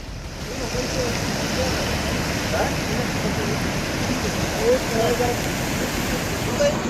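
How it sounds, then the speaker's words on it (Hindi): Torrential rain pours in a steady, dense roar that never lets up, with a voice faintly audible beneath it. "बारिश हो रही है मूसलाधार।"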